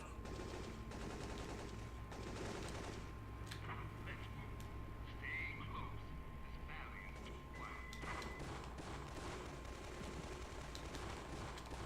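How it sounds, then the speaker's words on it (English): Heavy sniper fire in Syphon Filter 3, sharp scattered gunshot cracks with some rapid bursts, mixed with game sounds and someone talking over it. "Heavy sniper fire from the end of the bound."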